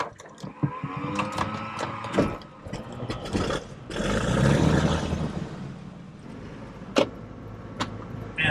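Cirrus SR22T aircraft engine making a hot start, with loud clattering, scraping mechanical noise building to a sustained roar in the middle, then sharp isolated knocks and pops as it settles.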